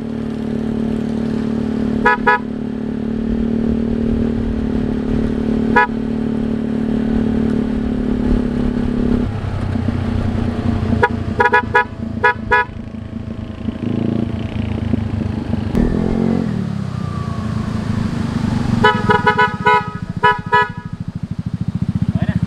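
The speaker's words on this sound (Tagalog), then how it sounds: "Yung busina pagka umaandar." A Yamaha Mio Soulty scooter engine drones steadily while its Bosch Evolution horn gives several short beeps in bursts, some in quick pairs, amid road noise and occasional voices.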